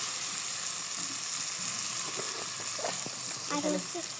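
Small fish sizzle in hot oil in a pan with a ground cumin-garlic paste, giving a steady frying hiss with scattered pops and crackles that grow busier toward the end.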